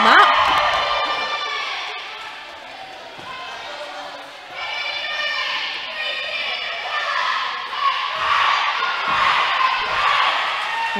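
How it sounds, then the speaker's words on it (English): A team cheering at an all-stars roller derby bout, a group of voices chanting and shouting together in a large echoing hall, rising and falling in bursts with crowd noise behind. "And Dead End doing a nice little cheer there for Killett"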